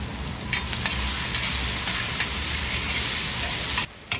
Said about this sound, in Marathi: आपण हिंग टाकूया आणि नंतर लसूण टाकूया.